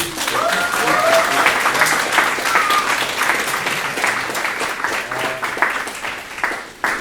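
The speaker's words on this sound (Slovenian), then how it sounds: "prosim še en aplavz za ta" An audience at a school film screening applauds in a sustained wash of clapping that thins toward the end, with a few voices faintly audible underneath.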